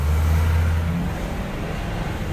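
A car engine rumbles loud and close, a low steady drone that eases slightly partway through, with no talking over it.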